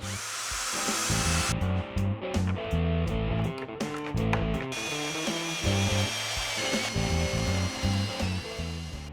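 A power drill bores holes for concealed cabinet door hinges using a hinge jig on Shaker-style cabinet doors, the motor whining in several loud bursts separated by brief stops and restarts, close and alone.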